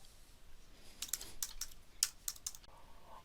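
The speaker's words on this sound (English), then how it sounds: "type in the name of your network, whatever it might be" Keys tapped on a computer keyboard, with a quiet start followed by a cluster of crisp, close clicks in an uneven rhythm, alone with no voices.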